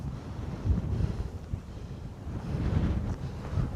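Strong wind buffets the microphone on Castle Hill near Huddersfield in heavy, continuous low rumbles and gusts, with no voices.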